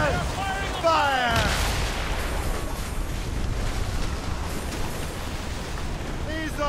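Ship cannons firing in Assassin's Creed Rogue, a heavy booming volley with crackling blasts over a constant roar of wind and sea, and shouting voices mixed in.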